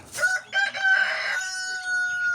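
A rooster crows once, a loud, drawn-out, ringing call close by that holds its pitch before trailing off.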